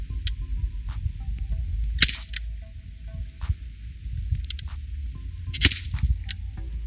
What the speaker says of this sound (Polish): Jeszcze szczelę do góry.